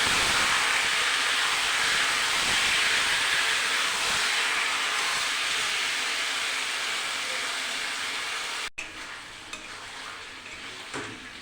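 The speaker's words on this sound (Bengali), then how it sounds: "গ্যাসটাকে কমিয়ে ভালো করে আমি কষিয়ে নেব।" Chicken sautéed in a pan over low gas for kosha: a steady, dense hissing sizzle with faint stirring scrapes, close up. Near the end the sizzle cuts off abruptly and quieter pan sounds follow.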